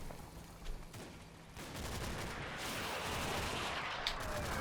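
Artillery barrage in the WWII video game Combat Mission: Battle for Normandy, a steady broadband rumble of incoming shell fire building after a softer start, with a sharper crack near the end.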